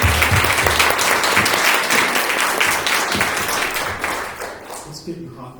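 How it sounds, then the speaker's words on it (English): An audience at a school board candidates forum breaks into sustained applause that fills the room and gradually tapers off, with a voice starting to talk as the clapping fades. "Can I have a round of applause?"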